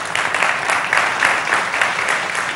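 A studio audience on a Malayalam TV talk show claps in a dense, steady wave of applause that holds for the whole stretch, with no voices over it.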